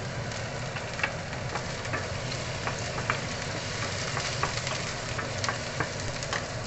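Beef and garlic frying in a pan with sauce, a steady close sizzle with scattered pops and stirring scrapes, no talking.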